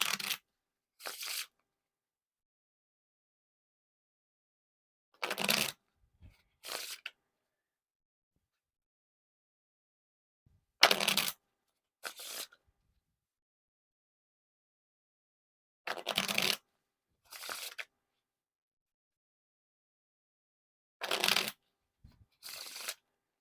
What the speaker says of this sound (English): on to the riffle shuffle or bridge shuffle